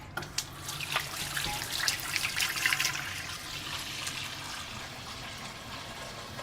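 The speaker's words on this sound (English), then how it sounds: "I'm gonna wash the pot right away." Tap water runs steadily into a cooking pot just emptied of pork stock, with splashing and trickling as it is washed in a sink, close and continuous, with a few clatters near the start.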